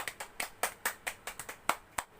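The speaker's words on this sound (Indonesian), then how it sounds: "Tepuk tangan dulu untuk temannya" Students in a chemistry class clap for a classmate who has just presented, a short burst of about a dozen sharp, separate handclaps in an uneven rhythm, fairly close and with no talking.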